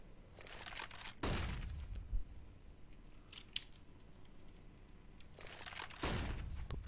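Gunfire during a professional Counter-Strike: Global Offensive match on de_mirage, heard as a few sharp bursts of shots with quieter clicks and faint noise between them.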